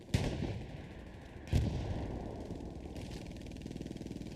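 Gunfire in the World War II shooter Hell Let Loose at Carentan: two loud nearby shots several seconds apart, then a fainter distant report over a steady engine-like rumble and rapid ticking toward the end.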